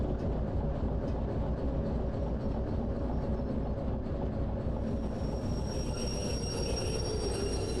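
Diesel locomotive in the Derail Valley train game rolling off the main line, a steady loud rumble of wheels and rail noise throughout with faint squeal rising near the end.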